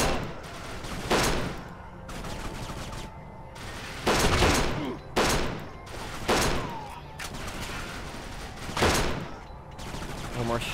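Gunfire in the crime shooter Kane and Lynch 2: Dog Days, loud bursts and single shots recurring every second or two against a busy background, with someone talking at points.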